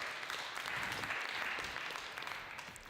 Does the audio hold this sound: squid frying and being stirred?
no